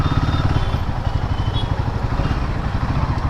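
A Royal Enfield Guerrilla 450 motorcycle engine runs close by, its heated engine giving a steady, throbbing low rumble that holds constant from start to finish.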